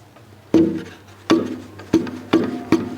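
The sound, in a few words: tapping a guitar top with untuned glued braces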